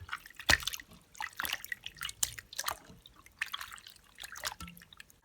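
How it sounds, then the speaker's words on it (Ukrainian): Fresh wood ear mushrooms being washed by hand in water, quiet irregular splashes, drips and trickles in short bursts, close and soft. "Для початку гриби я помию, почищу від сміття."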